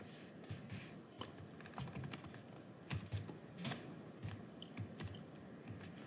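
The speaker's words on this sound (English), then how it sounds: "Let's just type that in." Quick, close clicks of fingers typing on a computer keyboard come in irregular bursts at a fairly quiet level, with no voices.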